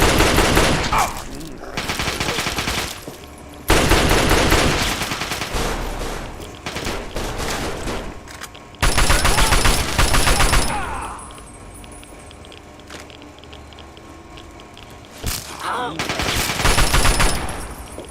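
Gunfire in the video game Fallout 3: loud bursts of rapid machine-gun fire repeat in several long volleys, with quieter gaps and scattered single shots between them.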